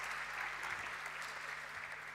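Brief, steady applause from an audience at a formal national debate event as the Senate president is bid farewell, a dense even clapping wash at moderate distance with no pauses.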